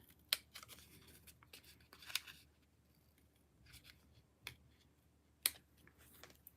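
Scissors snip paper photo pieces for a craft project, a few sharp isolated cuts spaced seconds apart with faint rustling of paper in a quiet room.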